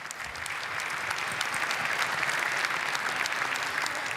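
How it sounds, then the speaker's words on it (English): An audience applauds at the 2023 EHF Excellence Awards, a handball awards ceremony in Vienna. Dense, steady clapping fills the whole stretch at an even level without letting up. "Completely deserve the applause."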